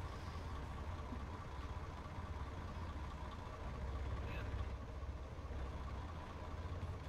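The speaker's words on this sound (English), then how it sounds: "Can I hop in the Tempest to turn the engine off?" A heavy Tempest truck engine idles in ArmA 3, a steady low rumble running throughout at moderate level beneath people talking.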